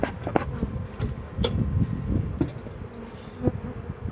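Dense, steady buzzing of many honeybees close by at a hive, with occasional louder individual bees passing near.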